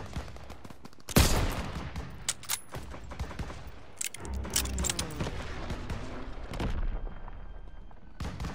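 Gunfire from the Call of Duty WW2 campaign mission Stronghold, with a sharp loud shot followed by a dense, continuous fusillade of rifle and machine-gun fire and explosions throughout, with brief radio-style talk beneath.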